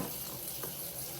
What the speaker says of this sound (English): So tap hot water.